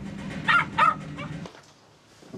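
A dog gives two short, sharp barks mixed with whimpering, close and fairly loud, in a scene from the 2002 Polish comedy-drama Day of the Wacko, followed by quieter room sound.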